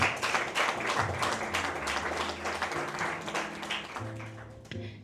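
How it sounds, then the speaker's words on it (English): A seated audience at a business event claps in a loose, fairly loud patter that thins out near the end, with a low hum and a brief voice underneath. "Okay, you want to clap? Please clap."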